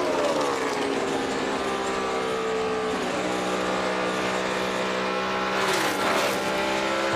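NASCAR stock cars roar around the track at the 2012 Bank of America 500, a loud, continuous engine drone with shifting pitch as cars pass close by, swelling near the end with another car's approach.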